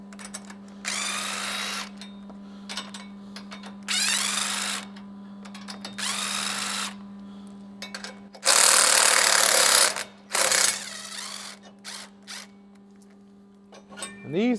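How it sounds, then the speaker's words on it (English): A power tool drives a 14mm socket to remove the bumper stud nuts on a Toyota Tundra, giving several loud whirring bursts with short pauses between them over a steady background hum. "we're gonna use a 14mm socket. We're gonna take off 4 studs on each side here"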